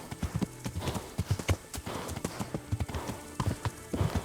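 Horse hooves clip-clop steadily on the ground in the Kingdom Come: Deliverance video game, near and fairly loud, with an uneven walking rhythm and nothing else heard over them.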